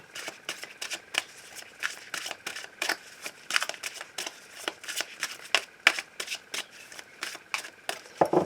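Tarot cards are shuffled and cut with rapid riffles and a steady stream of crisp flicks and slaps close by, without any talking.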